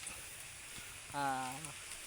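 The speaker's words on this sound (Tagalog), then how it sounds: "saka ang lakas ng ulan" Heavy rain falls on a farm, a steady dense hiss throughout, with a brief voice-like tone in the middle.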